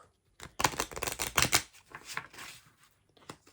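Part of a deck of playing cards being shuffled by hand during a yes-or-no card reading, a burst of close, crisp riffling flutters followed by softer, sparser card sounds.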